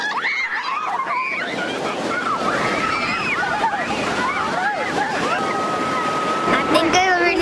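Ocean waves wash onto a beach in a steady, close surge, with children's voices and excited chatter running over the water throughout.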